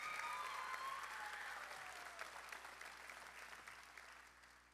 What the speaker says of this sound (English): A round of applause for our HPU dual credit students.